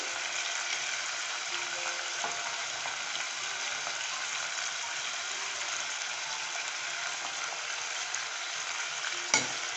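Whole spices, including black pepper, cinnamon stick and black and green cardamom, roast in oil in a pan with a steady bright sizzle, a few faint stirring scrapes, and a single sharp knock near the end.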